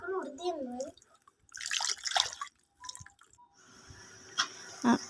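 Soaked raw mangoes are rinsed in water, with splashing and dripping close by, while someone talks over parts of it and a voice is briefly heard.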